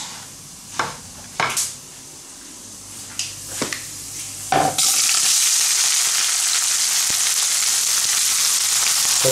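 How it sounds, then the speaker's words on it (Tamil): Chopped onion dropped into a pan where chana dal is already frying, a few knocks and clatters followed by a sudden loud, steady close sizzle. "நீங்கள் இந்த கட் பண்ணி வச்சுருந்த ஆனியனை தூக்கி போட்டுடலாம்."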